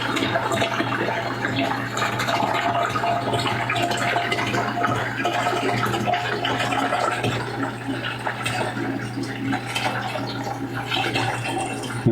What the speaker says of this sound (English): I'm just going to stand back from it and pour this all into my pump sprayer